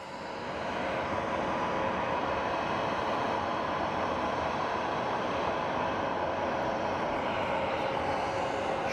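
American Airlines flight 1998 departs Phoenix Sky Harbor for LAX, jet engine noise swelling over the first second into a steady, strong roar with a thin tonal whine, heard alone.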